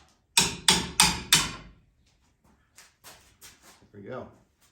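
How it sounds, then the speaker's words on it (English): A hammer strikes a part during a 1999 S-10 8.8 axle swap: four sharp, evenly spaced metallic blows close up, then several softer, lighter taps. "All right, a couple love taps with the hammer,"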